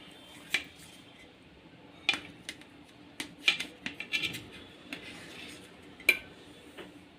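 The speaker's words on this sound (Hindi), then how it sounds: "हम इस तरह से इसको काट ले रहे हैं बर्फ़ी के शेप में" A knife slicing set besan katli into barfi-shaped pieces, giving a handful of sharp, separate taps and scrapes against a plate or board, close and fairly quiet, with a steady low background hum and no talk.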